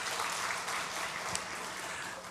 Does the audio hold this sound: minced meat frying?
no